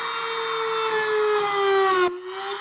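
A DEPSTECH rotary tool, set at speed 3, drills into wood with a steady high whine and gritty rubbing, then pulls free near the end with a quick falling pitch.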